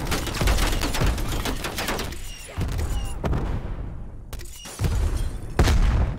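FFAR assault rifle gunfire in Black Ops Cold War: several loud bursts of rapid automatic shots separated by brief pauses, with faint game effects between them.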